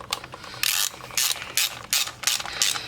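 A ratchet works a bolt on the engine of a Toyota 2.4 Camry, giving quick bursts of close, sharp clicking pawl ratcheting separated by short pauses, with no talk.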